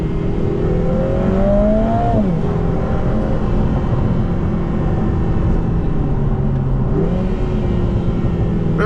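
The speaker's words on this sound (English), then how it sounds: "Very sharp gear changes." A 2024 Lotus Emira First Edition with the AMG 2.0T engine accelerating in track mode, a loud steady engine drone from inside the cabin, its pitch rising then dropping sharply at two quick gear changes.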